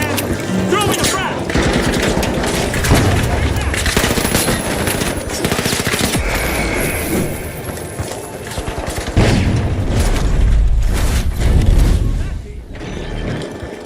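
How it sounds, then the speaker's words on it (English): Relentless automatic gunfire and heavy bursts from a thrown frag grenade in the shooter game The Finals, loud and dense throughout, with brief booms and an in-game voice talking over the combat. "Taking damage. Throwing a frag."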